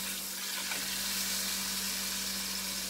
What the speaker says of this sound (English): I hope you guys can see me flipping it over.